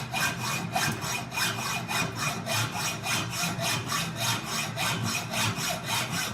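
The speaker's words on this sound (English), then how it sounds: "We're working all the way through with the hacksaw." A hacksaw cuts through metal with cutting lubricant while a hammer key ring is made by hand. Close, steady, rhythmic rasping strokes repeat about twice a second throughout, with no talking.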